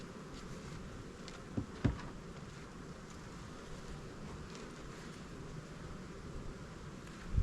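Honey bees hum around a hive in spring, a faint, steady buzzing drone with a couple of brief knocks partway through, heard alone with no talking.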